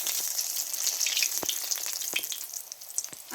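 Spiced, coated chicken drumsticks frying in hot oil, a steady broad sizzle running throughout with occasional sharper pops and crackles, close and alone with no voices.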